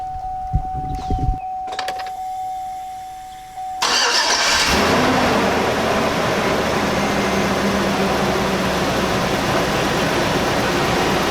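A Chevy Suburban is cranked and fires up after a few faint clicks and a brief electric whine, then settles into a steady, loud idle that runs on without talk.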